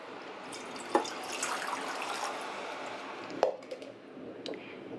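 Water for a fish marinade, about 600 ml, being poured into a vessel in a kitchen: a steady close splashing stream with a couple of louder plops, heard alone.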